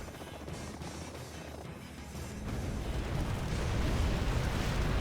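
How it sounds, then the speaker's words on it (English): A deep explosion in C&C Generals Zero Hour swells from a low rumble into a sustained, growing boom that builds over several seconds, fairly quiet overall with no voices. "There's the explosion we talked about."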